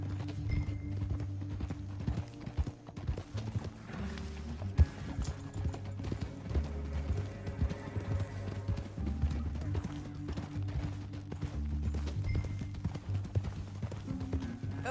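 Steady clip-clop of horse hooves trotting continuously in the video game Red Dead Redemption 2, with a low rumbling soundtrack beneath and no talking.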